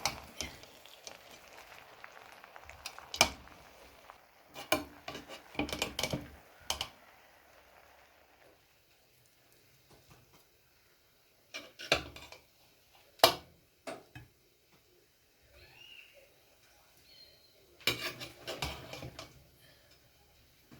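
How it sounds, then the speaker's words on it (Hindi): Chicken pulao is served onto a dish with a spoon, making soft, irregular clicks and scrapes in short clusters separated by quiet pauses. The sounds are faint and close, with no talking. "अब हम इसे डिश आउट करते हैं।"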